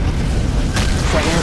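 Romulan ship blowing up in Star Trek: Legacy, a loud deep boom with a sudden bright burst partway through, over a constant heavy rumble, with faint voice-like traces.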